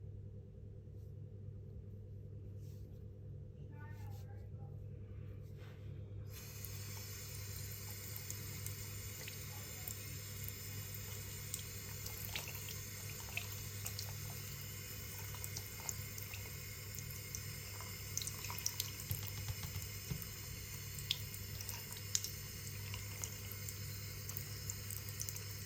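Tap water runs continuously into a sink while a polymer clay transfer is rinsed under it, a steady splashing flow over a low hum, with faint rubbing and brief handling clicks.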